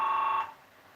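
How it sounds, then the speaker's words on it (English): A telephone rings indoors, a bright steady electronic tone for under half a second before it cuts off, leaving quiet room tone. "Oh, there goes the phone."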